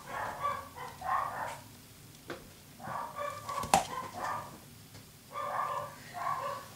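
A dog gives short whimpering, whiny yelps in indoor bursts, a couple of clusters separated by pauses, moderately close, with a sharp knock midway.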